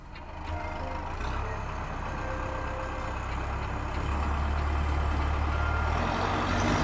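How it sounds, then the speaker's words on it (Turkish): A toy dump truck arrives with a steady rumbling engine-like drone that grows slightly louder, playing alone with no talking. "Hey, bakın. Damperli bir kamyon geliyor."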